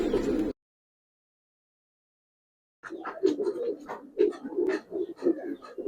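Giribaz pigeons cooing close by, one burst at the start, then a gap, then repeated soft throaty coos and rustles.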